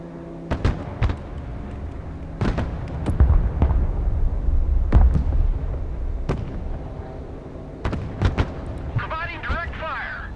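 Artillery battery firing direct fire in the war game Broken Arrow, a string of sharp, heavy booms at irregular intervals over a rumbling battlefield bed, with a dense burst near the end.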